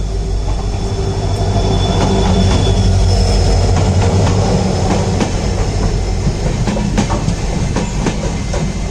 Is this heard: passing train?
yes